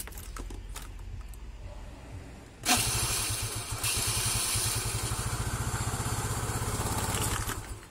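A scooter's small engine is started. A few quiet clicks and handling noises come first, then the engine catches abruptly and settles into a loud, close, rapidly pulsing idle for the rest of the time.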